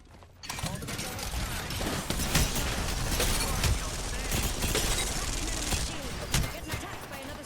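Rampart's minigun fires in Apex Legends as a dense, continuous spin-up and rattle of rapid shots with mechanical whirring, close and loud, and a voice speaks over it.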